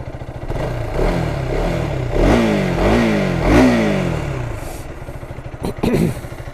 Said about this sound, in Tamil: Under belly எக்ஸாஸ்ட்டுங்க. சவுண்ட் எப்படி இருக்குது?